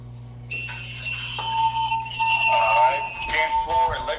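A building fire alarm under test on level 10 north sounds steady electronic tones that change partway through, with a brief burst of chirping near the end, loud and close indoors.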